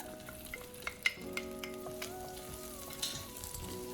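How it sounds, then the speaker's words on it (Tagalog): Garlic sautéing in hot frying oil left from cooking shrimp, a steady close sizzle with occasional sharp spatters and the scrape of stirring, no voices. "sa ating pinagprituhan, mag-isa na tayo ng bawang"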